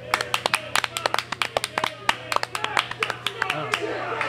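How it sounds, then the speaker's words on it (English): Crowd applause and cheering in the wrestling video game Rockstar Pro Wrestling, a standing ovation with sharp overlapping claps and a steady crowd murmur beneath. "A standing ovation by the Danger Zone for Big Jim."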